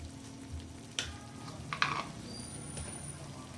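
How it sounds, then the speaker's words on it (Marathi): Okra and onions stir-fry in a pan with a steady soft sizzle, and a few sharper spatula scrapes and clatters cut in near the start and middle. No one speaks. "आणि याला परतून घ्यायचं."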